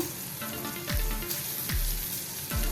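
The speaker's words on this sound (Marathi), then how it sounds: "फक्त आता दोन मिनटं फक्त आपण हे फ्राय करून घ्यायचं आहे" Sweetcorn and beetroot rice pulao fries in a pan with a steady, close sizzle, broken by a few scraping stirs of a spoon against the metal.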